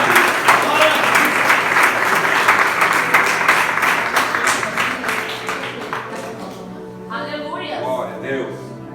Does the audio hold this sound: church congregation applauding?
yes